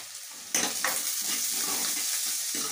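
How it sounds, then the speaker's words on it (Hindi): Onions with a pinch of turmeric fry in a pan, a steady close sizzle that jumps louder after a quiet start and holds level, with a few faint scrapes of stirring. "अब हम प्याज को तब तक भूनेंगे जब तक ये प्याज लाइट ब्राउन ना हो जाए"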